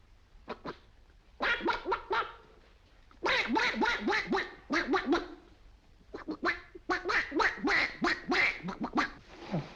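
A voice imitates a duck in the 1946 film Sherlock Holmes Dressed to Kill, quacking in quick raspy bursts grouped in several runs with short pauses between them.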